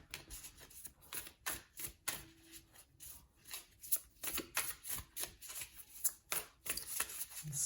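Tarot cards being shuffled in quick, repeated riffling bursts, close up and crisp, with short pauses between rounds and no talking.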